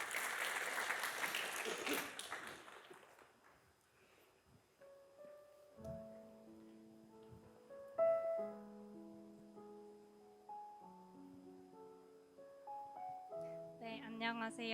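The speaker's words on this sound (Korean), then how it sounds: "우리 한번 박수 한번 할까요?" Church congregation applauding during a Sunday worship service, a broad wash of clapping that fades over a few seconds before sustained organ or keyboard notes take over and a voice begins near the end.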